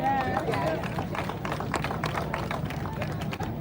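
Audience applause at an outdoor street co-naming ceremony in Harlem honoring Bill Perkins: a dense, steady patter of many hands clapping, mixed with crowd voices and chatter throughout.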